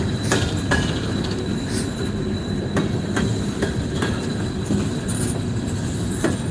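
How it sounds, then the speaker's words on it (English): A train rolls past on a railway line at Mount Hope, West Virginia, with a steady loud rumble, rhythmic wheel clicks and occasional high squeals from the wheels. "First time in nearly 2 weeks that a train's been up this line"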